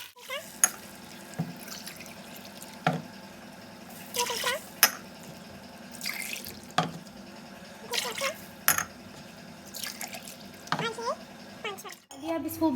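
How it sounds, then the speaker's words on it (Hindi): Water poured by the glassful into a pot of rice for a rice dish, splashing in several separate bursts with pauses between them, heard under someone talking nearby. "मैं इसमें 5 गिलास पानी डालती हूँ"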